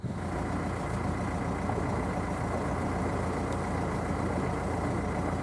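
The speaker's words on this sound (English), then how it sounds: "the engine is a big 42 horsepower diesel engine" A 42-horsepower four-cylinder boat diesel engine runs steadily at a constant rumbling idle, loud and close, with no voices over it.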